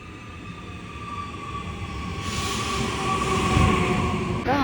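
A train moves through Munich railway station: a low rumble swells into a louder, nearer approach, with whining motor tones and thin metallic wheel squeals rising over it before a brief dip at the end.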